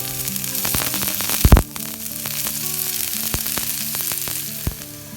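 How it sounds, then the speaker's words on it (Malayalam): Coconut pieces and chopped shallots fry in hot oil, a steady dense sizzle with occasional louder crackles and a brief clatter of stirring. "അരിഞ്ഞതും കൂടി ചേർത്ത് വഴറ്റിയെടുക്കണം. വറുത്തെടുക്കണം, വഴറ്റിയല്ല."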